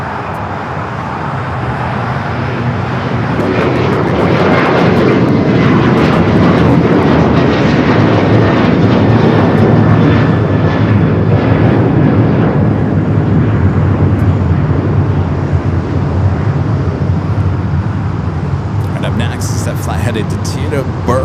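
United Airlines airliner taking off from LAX runway 25 right, a loud sustained jet engine roar that swells and holds steady with rumbling low end, while a voice talks in the background.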